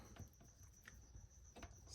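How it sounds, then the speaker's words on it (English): Crickets chirping outside a garage, a faint steady high trill running throughout as quiet background ambience, with soft low rumble and a few small knocks beneath. "I'm out in the garage. You can probably hear the crickets."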